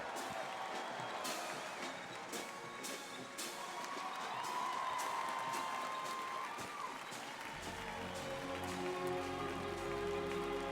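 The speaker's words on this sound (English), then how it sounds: "Give them a big round of applause, the 82nd Airborne Ceremonial Band." A large outdoor audience at a U.S. Army 250th anniversary military ceremony applauds the 82nd Airborne Ceremonial Band, a dense crackle of clapping that builds with some cheering while band instruments sound underneath.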